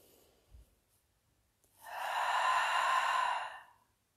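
One long, steady breath of several seconds, near and moderately loud, taken during a guided meditation, with a faint soft sound shortly before it and quiet otherwise.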